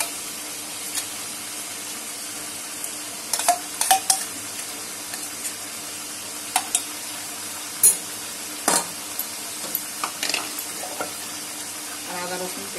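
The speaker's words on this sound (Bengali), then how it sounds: "টক দই মাখানো মশলাটা দিয়ে দেব।" Mutton korma frying in a pan with yogurt-marinated spices, a steady soft sizzle under repeated scraping and clinking stirs of a spoon against the pan.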